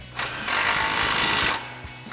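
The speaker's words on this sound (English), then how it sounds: "we'll grab our 18 millimeter socket on our impact, our 18 mil wrench" Impact wrench running an 18 mm socket to tighten nuts on a Jeep Wrangler JK suspension lift, one steady loud hammering burst of just over a second, close up and alone.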